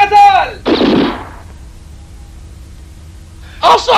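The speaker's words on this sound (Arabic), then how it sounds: "ماكس انتظر لحين إطلاق الرصاصة الأخيرة. الإطلاقة السادسة." A single loud, close rifle shot cracks out, the sixth of the shooting contest, with a sharp burst and a short decaying echo, bracketed by brief noises at the start and end.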